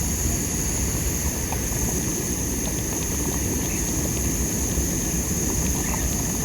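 A Jetboil camping stove burner roars steadily at close range during a road trip in Tasmania, a constant loud rushing hiss of burning gas with no talking.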